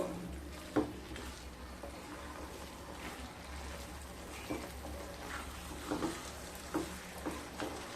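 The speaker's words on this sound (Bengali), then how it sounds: "চাল কুমড়োগুলোকে দিয়ে দিয়েছি মশলার সাথে খুব ভালোভাবে মিশিয়ে নেবো" Ash gourd pieces stirred with spices in a pan, a low steady sizzle under occasional spoon scrapes and knocks against the pan, quiet and close with no talk.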